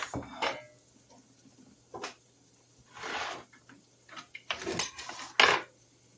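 Coarsely chopped onions, two big ones, are scraped and dropped into a pot on a stovetop in a few separate bursts of clatter and knocks, close by with quiet gaps between, no talking.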